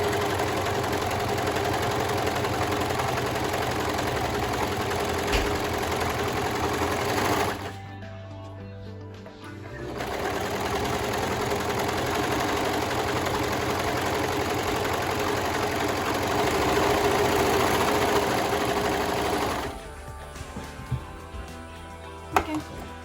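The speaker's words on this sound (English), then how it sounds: "I'm going to sew it with the overlocking machine." An overlocking machine stitches the curved lining of a fabric face mask in long, steady buzzing runs, pausing briefly in between before starting again, then stopping with a few small clicks.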